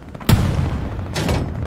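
Gunfire in the World War II shooter game Hell Let Loose: two sharp, loud reports about a second apart, each leaving a brief rumbling tail over low background noise.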